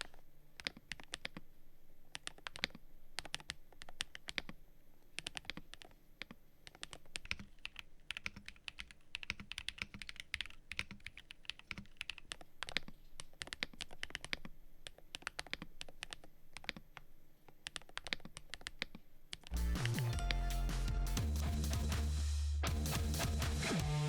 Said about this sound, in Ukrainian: Ось так звучить ця клавіатура в порівнянні з моєю останньою домашньою механікою на важких тактильних свічах.